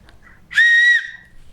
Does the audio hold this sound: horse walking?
no